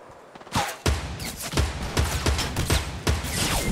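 Rapid gunfire from a Fortnite match, including a sniper rifle shot, cracks out in a series of loud, sharp bursts roughly every half second, with no talking.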